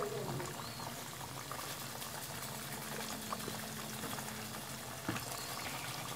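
Lahori street-style fish pieces fry in hot oil, giving a continuous soft bubbling sizzle at moderate volume with a faint clink partway through.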